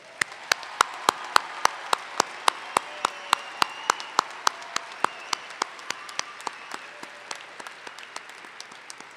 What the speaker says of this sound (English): give them yet one more big round of applause